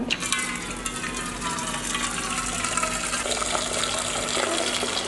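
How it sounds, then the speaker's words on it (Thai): Hot water pours steadily into a container, a continuous close gushing splash that holds for several seconds with little change. "ใส่น้ำฮ้อน"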